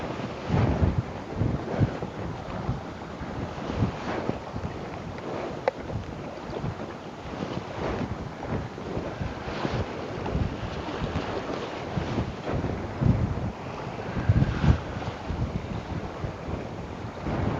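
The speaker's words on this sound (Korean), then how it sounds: "야 바람이 더분다 더불어 물놀이를 하려고 그런가 바람이 더 부네요" Strong wind blowing at sea during a fishing trip, continuous buffeting rush against the microphone with waves and water noise beneath, steady and loud throughout.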